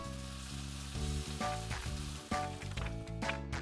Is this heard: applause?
no